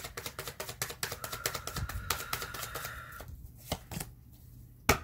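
Tarot cards riffle and flick in a fast rhythmic shuffle, then slow into a few scattered taps and a final sharp slap as cards are laid out; near and soft, without voices.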